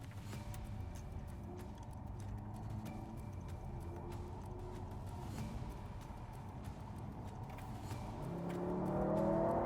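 A Mercedes C43 launches in a drag race between the W206 and W205 models. Its engine note, faint and heard from inside, starts as a low hum and climbs steadily as the car accelerates.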